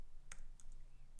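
Computer keyboard typing at close range: a few quiet, sharp key clicks spaced out over about a second against faint background hum.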